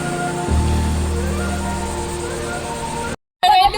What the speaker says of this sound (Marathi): समुद्र कसो हो, पाठी पुढे येत राहत पाणी